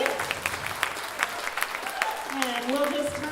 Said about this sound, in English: give a round of applause to Steve